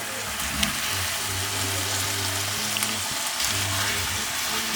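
Chicken pieces go into a pan of tikka masala sauce and sizzle with a steady, moderately loud frying hiss, while a low hum runs underneath.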